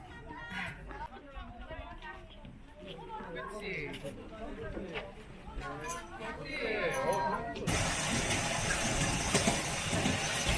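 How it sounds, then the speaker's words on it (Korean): A small kiddie train departs on a tour around a science museum in Busan, its engine and rolling rumble running under lively chatter from riders, growing into a louder, steady rush near the end. "지금 이렇게 꼬마 열차가 출발하고"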